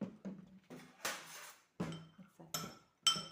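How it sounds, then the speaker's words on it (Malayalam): A spoon mixes hot chili powder into tender baby mango pickle, giving a series of distinct metallic clinks and scrapes against the container, close and separated by short pauses. "ഞാൻ സ്പൂൺ കൊണ്ട് ഇളക്കാം"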